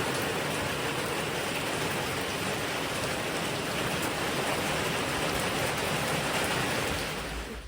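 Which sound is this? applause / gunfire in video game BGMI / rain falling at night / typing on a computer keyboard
rain falling at night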